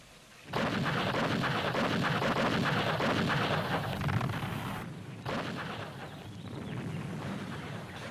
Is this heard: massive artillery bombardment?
yes